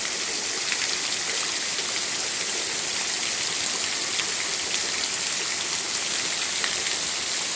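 Steady, loud rain pours down on a street in a continuous hiss with no break. No children's voices stand out above the downpour.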